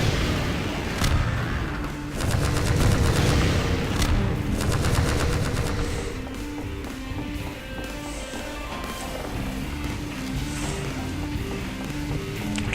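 Enemy gunfire in the video game Deep Down: loud bursts of rapid automatic shots and booms, densest early and continuing more sparsely over game music.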